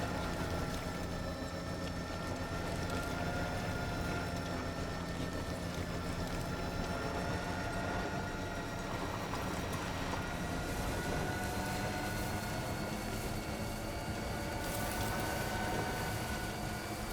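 A monorail train in the video game Death Stranding 2 runs past with a continuous mechanical hum and whine, a steady drone with no talk over it.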